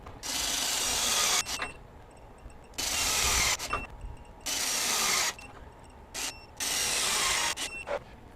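Milwaukee high-torque 750 ft-lb impact wrench fastening at set torque, delivering four loud, close bursts of rapid hammering, each lasting about a second and a half, separated by brief quieter pauses.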